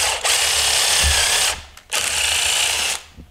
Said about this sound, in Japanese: ちょっと鳴らた雪が硬いのでこういうビットでこの後下穴を開けてあげましょう。